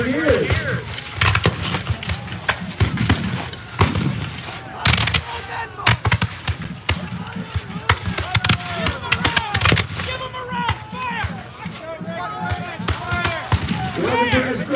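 Muskets fire in scattered, irregular shots during a Bunker Hill battle reenactment, with British light infantry shooting from behind Grenadiers; the shots are dense and outdoors, mixed with a busy crowd and voices.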